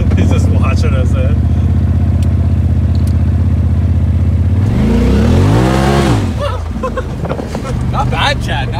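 A Polaris RZR Turbo Dynamix side-by-side idles loudly up close, then its engine revs up and falls in sport mode with a sweeping rise and drop, while people talk over it.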